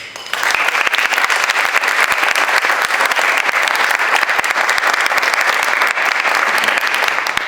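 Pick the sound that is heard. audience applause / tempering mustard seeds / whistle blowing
audience applause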